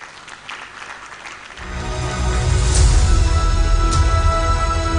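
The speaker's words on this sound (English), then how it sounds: "Big round of applause, ladies and gentlemen." An audience at a seminar of internal auditors breaks into applause that begins softly and swells into a full, steady round of clapping.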